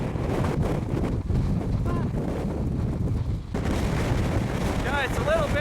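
Gusting wind on the summit of Mount Kosciuszko pounds the microphone in heavy, booming bursts, with a brief lull near the middle and faint voices underneath.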